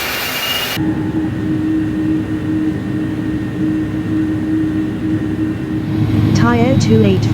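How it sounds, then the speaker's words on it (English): Airbus A310-300 jet engines in Thai International livery spool up in the X-Plane flight simulator, a steady loud turbine rumble with a faint tonal hum that grows louder and adds a rising whine near the end. "Starting pushback, and you may start engines."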